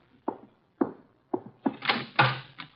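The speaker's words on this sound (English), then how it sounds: "Archie, the door, our guests are arriving." A door opens in an old NBC radio drama as guests arrive, heard as a series of close wooden thunks and knocks with a louder handling clatter at the end, alone without talk.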